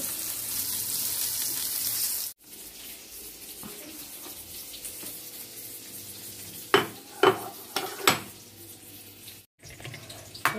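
Pointed gourd dropped into hot oil with julienned ginger, chopped garlic, green chilies and onion, giving a loud, steady hiss that cuts off abruptly, followed by quieter sizzling and a few sharp clattering knocks.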